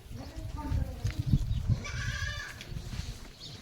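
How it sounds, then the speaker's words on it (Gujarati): Goats, including newly kidded does and young kids, bleat several times at home, wavering nasal calls rising over a busy background of shuffling and low voices, fairly close. "બકરા ઘરે આવી ગયા છે."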